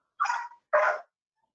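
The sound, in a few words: excited dog barking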